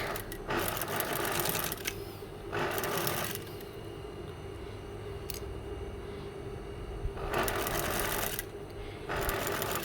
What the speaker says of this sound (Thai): เย็บคิ้วปลายแขนนะคะ เราจะไม่เย็บตกล่องนะคะ เราจะเย็บคิ้วนะคะ